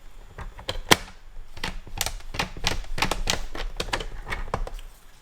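A strip of scrapbooking paper, a 4 cm piece, is folded in half with a series of crisp, close creasing and rustling taps, one sharp crackle near the start, then steady papery pressing strokes, alone and quiet.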